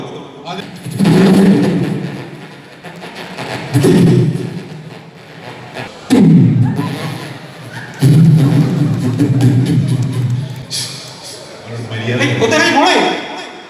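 A voice imitates fireworks bursting with a series of loud, booming vocal blasts and pops, close and forceful, separated by short pauses.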